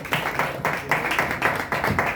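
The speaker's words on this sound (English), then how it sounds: "more applause, come on." Audience applause at a Tata Mumbai Marathon 2025 merchandise launch event, heard as repeated bursts of clapping rising and falling over a couple of seconds, fairly close and moderately loud.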